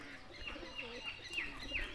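Pigeons kept as a backyard flock coo softly, several rising calls repeating over faint outdoor background noise, with no speech.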